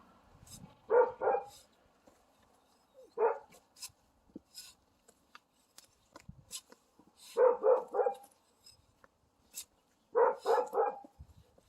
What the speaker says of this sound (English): I'm sure you can hear Zach barking